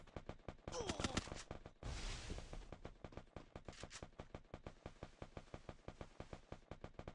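Rapid gunfire in the Free Fire battle royale game: a dense burst of shots gives way to a long run of evenly spaced automatic rounds, quiet overall, with some talk.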